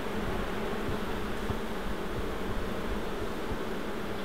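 Agitated bees swarm around a hive split, a dense, continuous close-up buzzing with no let-up and no talking.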